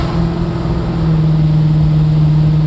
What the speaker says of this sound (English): Listen to that exhaust. It's like music.